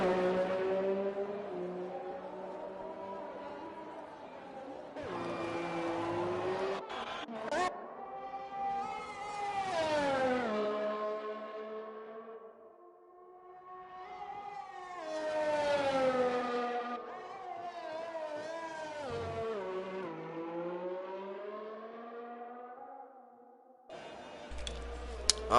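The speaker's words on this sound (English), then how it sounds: "Now we've only got a few cars running on track." F1 race cars lap the Dutch GP circuit in F1 2020, high-pitched engines climbing and falling through the gears as single cars pass close by and fade away, with no talk over them.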